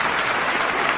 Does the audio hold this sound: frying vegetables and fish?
no